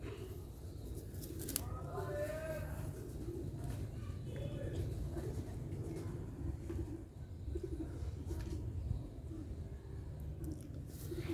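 Sialkoti pigeons coo softly and repeatedly nearby. The low, throaty calls sit over a quiet, steady background, with faint voices now and then.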